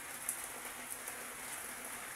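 Steady rain falling on a hot summer day, a soft continuous hiss with faint scattered drop ticks, fairly quiet and without voices.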